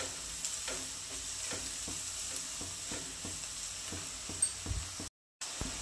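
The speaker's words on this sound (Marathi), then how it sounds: "तर छान असं आता हे परतून घ्यायचं।" Onion, ginger-garlic paste and green chilies sizzle steadily in a pan while a spoon scrapes and stirs in a regular rhythm, close and clear, with a brief dropout near the end.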